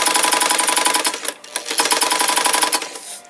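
Dressmaker Super Deluxe zigzag sewing machine stitching in reverse, a loud, close, rapid mechanical clatter that runs steadily with two brief pauses before resuming.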